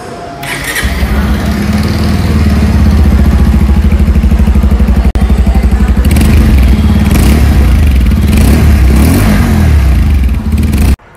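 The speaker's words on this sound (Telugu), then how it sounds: "సో ఎగ్జాస్ట్ సౌండ్ విందామా" A Bajaj Pulsar 150 Twin Disc motorcycle from 2024 sends out a loud, close exhaust note with a steady thumping idle that carries through, then a few short throttle blips near the end before it cuts off.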